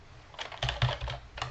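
Fingers typing a password on a computer keyboard, a quick burst of close, crisp key clicks in uneven rhythm, growing louder and denser partway through.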